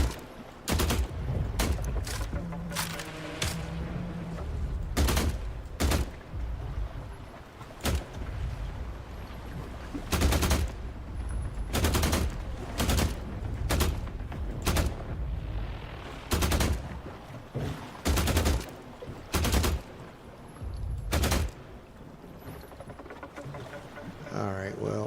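Suppressed gunfire in the survival game The Last Caretaker: repeated sharp shots in short bursts and single cracks across the stretch, loud and close, with someone talking in between.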